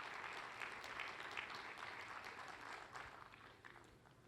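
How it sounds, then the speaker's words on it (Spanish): A church congregation applauds during a sermon, a quiet, steady patter of many hands clapping together that gradually thins and fades toward the end, heard without any voice. "Si le va a aplaudir al Señor, apláudale al Señor"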